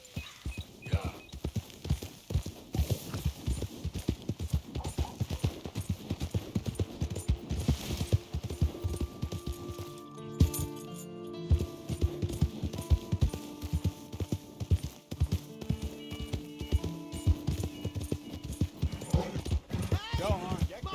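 Horse hooves clip-clop steadily at close range in the Red Dead Redemption 2 video game, with a neigh or whinny, while Portuguese-speaking voices talk over the rhythmic footfalls.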